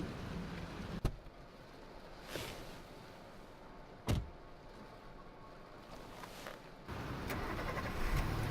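In the game Life Is Strange, a car door thuds and an engine cranks and starts, followed by further clunks and the engine settling into a low idle that swells louder near the end, with no talk.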